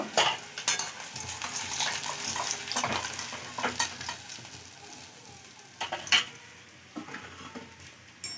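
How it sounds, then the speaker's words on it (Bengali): Pieces of fish belly and a fish head fry in hot oil in a pan, giving a steady broadband sizzle with occasional louder crackles and clatter of a utensil, close and continuous without talk. "আর এই দুটো পেটি আর মাথা আছে, ভেজে নেব"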